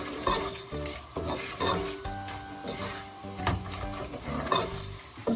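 Whole spices frying in hot oil for haleem, a busy crackling sizzle with repeated metallic stirring and scraping clatters, close up and loud throughout, with no one talking.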